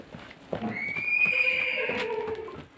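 A horse neighs in a long, high, wavering whinny that falls away near the end, close and clear over light background noise and a few faint thuds.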